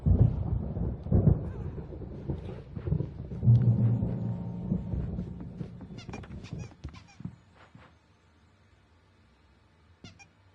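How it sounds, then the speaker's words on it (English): Deep, rolling thunder from a storm in the video game Alan Wake Remastered rumbles loudly through the first several seconds, then fades into quieter crackles with a sharp faint hit near the end. "There's a storm coming. Oh, what a storm."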